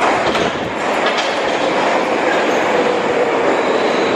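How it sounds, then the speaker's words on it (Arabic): A Moscow metro train pulling into a station, a loud, steady roar of wheels and motors with rushing air and faint rail squeal, close and continuous with no talking. "خوت هنا المترو كيجي كل دقيقة واحدة بالحساب"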